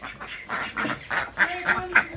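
A domestic duck quacks several times in quick succession, loud and close, with harsh nasal calls in a steady rhythm.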